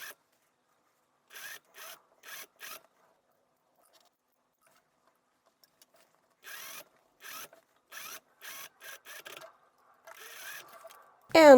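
A sewing machine stitches a dress seam on a large ruffled summer dress, running in several short, separate bursts with quiet gaps between them.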